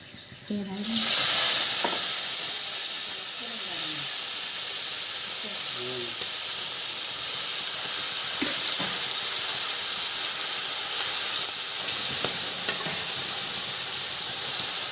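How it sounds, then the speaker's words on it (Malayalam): Boiled intestines sizzle and hiss steadily in a hot pan while a spoon scrapes and stirs them now and then, a constant close frying sound throughout. "ഇനി നമുക്ക് ഇതിനകത്തേക്ക് നമ്മൾ വേവിച്ച് വെച്ച കുടലൊക്കെ ഇട്ട് കൊടുക്കാം."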